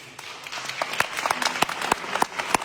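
A church congregation at a Cenacle gathering breaks into applause, dense, steady clapping from many hands filling the room without any talk.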